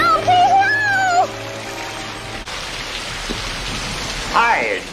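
Steady rain hisses down outdoors near a tree where a Traxxas Rally VXL 3S RC car is being driven, with brief voices over the constant patter.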